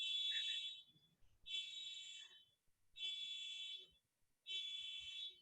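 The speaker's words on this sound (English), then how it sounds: "I can't even believe somebody's alarm is going off." Someone's alarm beeps in four shrill, evenly spaced bursts, each lasting about a second with short gaps between them. It sounds faint and somewhat distant, with no one talking over it.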